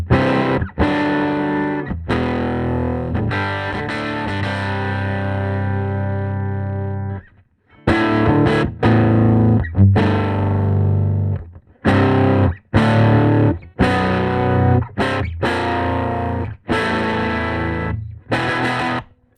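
Electric guitar played through a Sunn 100S amplifier with the treble turned fully down, giving loud, distorted chords and riffs with a thick, warm tone, in choppy strummed bursts separated by brief pauses.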